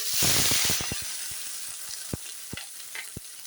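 Chopped mixed vegetables, including eggplant, hitting a hot oiled pan with a loud initial sizzle that fades to a softer steady fry, punctuated by several sharp spatula taps and scrapes.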